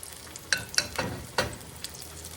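Cornbread and onion fritters fry quietly in hot grease under a low sizzle. Several sharp pops and spatters spike through it in the first second and a half.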